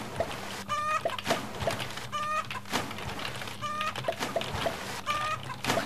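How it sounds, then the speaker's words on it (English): Chickens cluck in the Roblox game Egg Farm Simulator, repeating in short bursts about every second and a half over a steady game backdrop. "I keep hearing like chicken barking."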